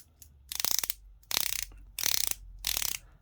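Four short bursts of rapid ratcheting clicks, evenly spaced, as a SteelDive SD1972 dive watch bezel is turned in quick strokes, close and crisp against a quiet background.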